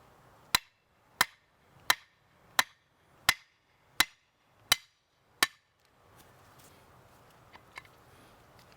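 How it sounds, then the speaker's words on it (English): Eight sharp, evenly spaced hammer strikes ring out on a car's steel ball joint during a suspension repair, each a loud metallic crack, followed by quieter shuffling and handling noises. "I'm just going to hit it with a hammer."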